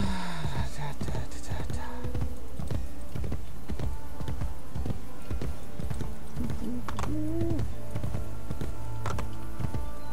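A horse clip-clops at a steady walking pace in the Assassin's Creed Brotherhood video game, mixed with game music and ambient effects.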